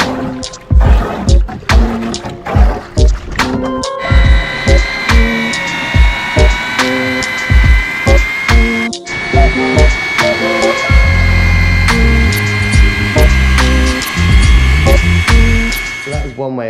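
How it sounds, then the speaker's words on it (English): Sand, cement and waterproofer render being mixed by hand in a mixing bath, with repeated scraping, knocking and sloshing strokes, close and loud, and a steady machine-like hum building underneath in the second half. "I'm going to mix it up and I'm going to start whacking it on the walls"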